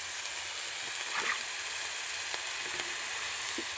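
Spices and ginger-garlic paste frying in a pan, a steady soft sizzle and hiss with a few faint stirring scrapes, fairly quiet and without talk.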